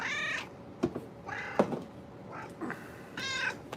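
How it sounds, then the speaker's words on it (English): A cat meows several times in a row, close up, with drawn-out harmonic cries separated by brief pauses and a couple of soft knocks. "And here's this gosh darn cat."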